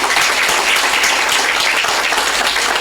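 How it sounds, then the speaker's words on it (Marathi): A large audience at a public talk claps loudly and steadily for the event organisers, with dense continuous applause filling the whole stretch and no voices on top. "आयोजकांसाठी जोरा जोरात टाळ्या वाजल्या"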